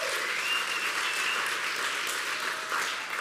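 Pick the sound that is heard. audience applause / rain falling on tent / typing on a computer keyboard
audience applause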